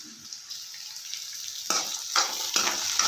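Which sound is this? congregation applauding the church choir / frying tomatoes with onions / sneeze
frying tomatoes with onions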